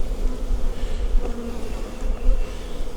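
Dense swarm of honeybees buzzing steadily as they are shaken into a strong hive in an outdoor bee yard, a close, continuous droning hum with no talk.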